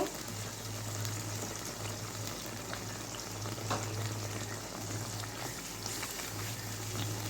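Chicken masala sautéing in a pan, a steady close sizzle and crackle with occasional stirring scrapes, continuous and moderately loud, with a low hum underneath.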